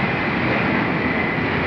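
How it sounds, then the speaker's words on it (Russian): Firefighting airplane flying over a fire in Mednogorsk, a loud, steady broadband drone of aircraft engines holding evenly throughout, with no talk. "Вот он летит самолет тушить."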